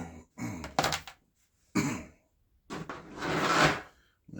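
A man coughs and clears his throat close to the microphone in three rough bursts separated by short pauses, with no talking.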